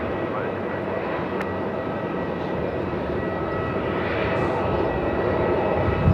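A steady, broad roar of aircraft engines fills the air at Melbourne Airport as a tug pushes a plane back under tow, the noise constant and fairly loud throughout with a slight swell toward the end.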